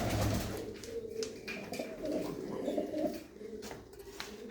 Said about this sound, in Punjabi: ਲਾਲ ਚੀਨਾ ਕਬੂਤਰ ਆ ਤੇ ਡੱਬੀ ਕਬੂਤਰੀ ਆ